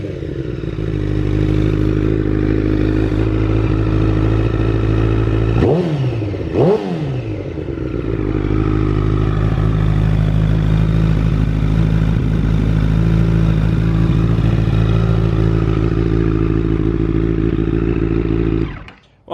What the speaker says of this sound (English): Like, the engine sounds pretty dang healthy.